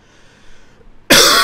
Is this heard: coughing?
yes